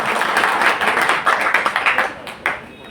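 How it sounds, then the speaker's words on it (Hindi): Loud applause from an audience at a Hindi-language gathering, dense clapping that swells, then breaks into separate claps and fades near the end. "एक बार तालियां जोरदार साथियों।"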